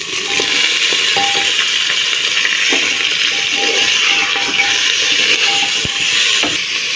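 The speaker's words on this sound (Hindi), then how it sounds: "और ये जो आधी प्याज बची है, इसमें हम गोश्त डाल देंगे।" Mutton dropped into a pan of golden-brown fried onions for biryani, a loud continuous sizzle and hiss with occasional stirring clinks, close and steady, no talk.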